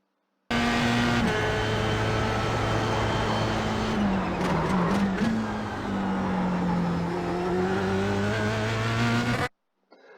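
A Formula car engine in the iRacing sim at Summit Point, held at full throttle in second gear, a loud sustained whining tone that shifts pitch through a section, close and alone without speech.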